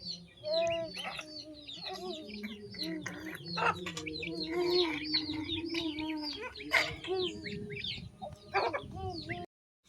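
Half-grown ducklings peep and chirp in a rapid, overlapping chorus close by, with cluck-like calls mixed in. The calls run for nearly ten seconds over faint low voices.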